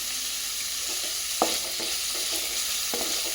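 Onions sautéing in a pan for a mushroom masala, a soft steady sizzle with a few quiet scraping stirs and a couple of sharper clicks, close and fairly low in level.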